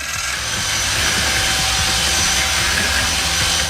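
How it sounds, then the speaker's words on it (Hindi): A loud, steady mechanical whirring and grinding from a big construction mixer beating sugar with egg yolks, running continuously without pause. "बड़े कंस्ट्रक्शन मिक्सर का उपयोग करके हम शक्कर को अंडे के पीले जर्द के साथ मिला लेंगे।"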